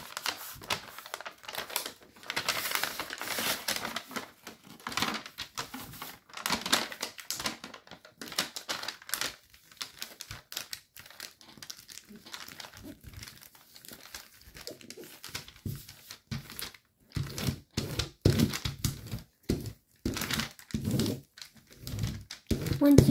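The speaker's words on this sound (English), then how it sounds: "And then you can squash fold the paper over." Paper is creased and squash folded by hand while making an origami helicopter, giving intermittent crinkling and rustling bursts of varying loudness under a person explaining the steps.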